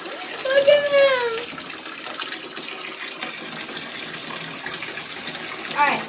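Tap water runs steadily into a bath for ferrets, a continuous gushing wash under a voice talking with high-pitched animal squeaks near the start and end.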